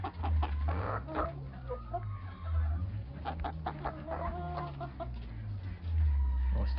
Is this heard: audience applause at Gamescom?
no